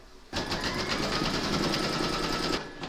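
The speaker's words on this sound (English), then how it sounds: "Pop your hoop into your machine and stitch round number 2 to secure it." An embroidery machine stitches a securing outline through batting held in the hoop, a steady rapid whirring hum that starts abruptly and runs evenly for a couple of seconds before stopping.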